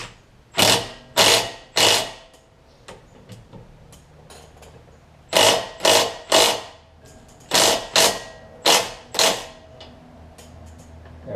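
A ratchet wrench tightens a 17 mm bolt on the sway bar link of a 2002 Toyota Camry during suspension work. Close, loud ratcheting comes in short bursts of three or four strokes each, with pauses between the bursts.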